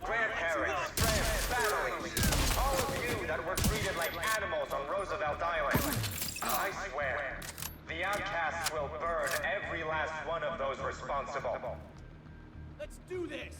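Bursts of submachine gun fire from a secondary weapon in a video game, sharp repeated shots scattered through the clip at close range, mixed with game effects under ongoing talk.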